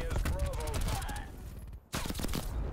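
Rapid gunfire bursts from the video game Call of Duty: Cold War, loud and close, with repeated shots under a player's talking voice and a brief drop to near quiet before the firing resumes.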